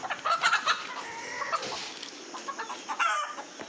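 Chickens cluck close by in a village farmyard, with repeated short bursts and a few louder squawks spread across the few seconds, and no talking.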